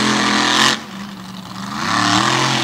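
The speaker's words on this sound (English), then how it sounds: "Gotta love the sound of those zoomies coming out from under the bedside." A big white Ram truck engine revs hard with loud exhaust at a truck competition, a roaring burst that drops off briefly and then builds again.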